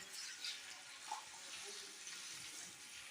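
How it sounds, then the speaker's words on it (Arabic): Water poured into a pot while cooking Iraqi pacha, a steady moderate splashing stream running through the whole stretch with faint speech-like murmur under it. "هسه راح تحط المي"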